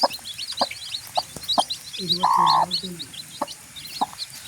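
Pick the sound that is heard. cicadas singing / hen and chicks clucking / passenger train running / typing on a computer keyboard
hen and chicks clucking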